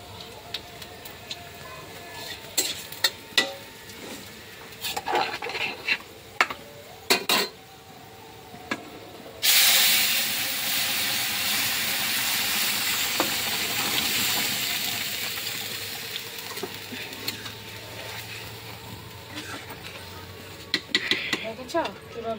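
Panch phoron five-spice seeds hit hot oil with a sudden loud hiss that settles into a steady sizzle, preceded by clinks of utensils against a pot, with a voice talking at times.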